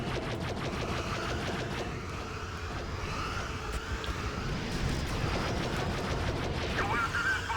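In Star Wars Battlefront II (Classic), a space battle's blaster fire shoots down a Republic ship, heard as a dense, continuous barrage of rapid laser shots over a steady roar of ship engines.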